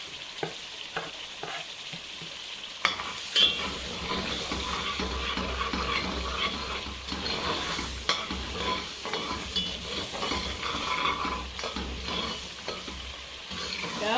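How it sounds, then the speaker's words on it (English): A thick paste cooking in a pot for a Cameroonian roasted fish and plantain dish, stirred steadily with repeated scraping strokes over a continuous low frying sizzle, close and moderately loud, with no talking. "You have to stir this consistently so that it doesn't get burnt at the bottom of the pot."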